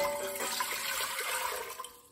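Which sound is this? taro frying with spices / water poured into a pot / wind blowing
water poured into a pot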